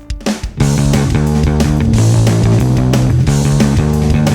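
A harsh, distorted band mix with buzzy guitar and thick bass, played without an equalizer, loud and continuous after a few short opening hits.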